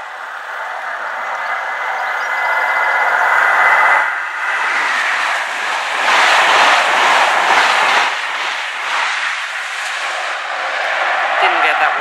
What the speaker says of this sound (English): Sounds to be a HST.